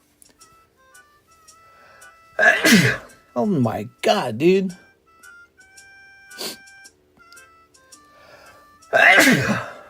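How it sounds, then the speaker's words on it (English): A person sneezes loudly several times in a card shop, with short bursts of talk and a gasp between them, then one more big sneeze. "I gotta sneeze. I always sneeze in here."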